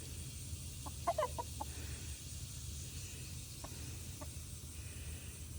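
Newly acquired chickens out of the coop for the first time, clucking outside near the coop: a short cluster of soft clucks early on, then a couple of faint isolated calls over a steady outdoor background hum.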